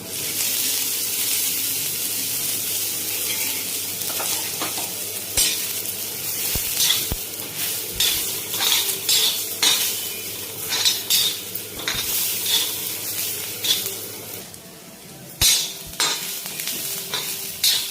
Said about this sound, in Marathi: कांदा आता छान भाजलेला आहे, तर काढून घेऊ आपण याला.